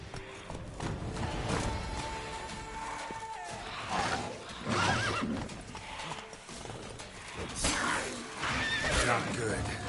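In The Witcher 3: Blood and Wine on PS4 Pro, Roach lets out loud whinnies over clattering hoofbeats, with someone talking during the clip.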